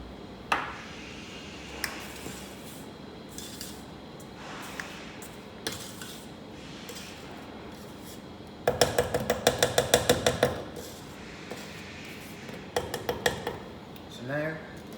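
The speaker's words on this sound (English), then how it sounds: "So I'm just going to scrape it down again" A spatula scrapes down cake batter for Battenberg in a mixing bowl, giving scattered knocks and clinks, then a burst of quick, ringing metallic taps partway through.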